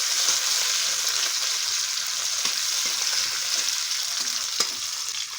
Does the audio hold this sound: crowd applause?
no